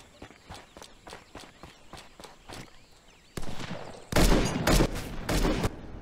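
Gunfire in the Old West survival game Heat: a run of sharp, evenly spaced single shots, then a louder, denser burst of close shots near the end, with footsteps faintly underneath.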